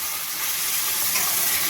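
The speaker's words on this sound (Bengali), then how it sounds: "পেঁয়াজ আর টমেটোটা আমি সুন্দর করে ভেজে নেব, একদম লাল লাল করে।" Onion and tomato fry in a pan with a steady, bright, hissing sizzle at close range and no pause or talking.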